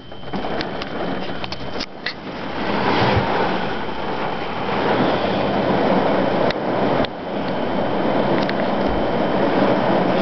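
Heavy rain of a summer thunderstorm in Keene, New Hampshire, a loud continuous downpour hissing and drumming steadily throughout, with occasional brief knocks.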